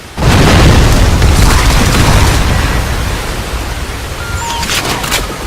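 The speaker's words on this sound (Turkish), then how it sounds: "Kör noktaları C4 ile havaya uçurun." A C4 charge detonating in a co-op military shooter video game, a sudden loud close boom that rolls into a long decaying rumble with faint debris crackle.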